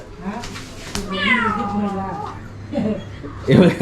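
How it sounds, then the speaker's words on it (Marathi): A house cat gives a clear, drawn-out meow near a doorway indoors, close and fairly loud, with brief household voices and movement around it. "दिलू दरवाजाच्या इथून आली बघ मांजर"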